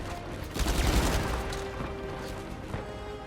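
Gunfire bursts in the PS5 action game Uncharted: Legacy of Thieves, loudest in a dense volley early on and then trailing into scattered shots and rumble over a busy game soundscape.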